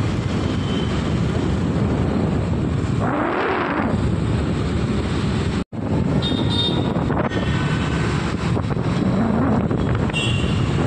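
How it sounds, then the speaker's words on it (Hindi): Strong wind buffeting the microphone while travelling outdoors in a moving vehicle, a continuous loud rushing roar with one brief dropout midway and no speech. "हवा चल रही है ना"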